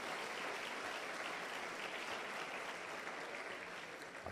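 Dense, steady applause from a large church congregation, loud and continuous throughout with no pauses.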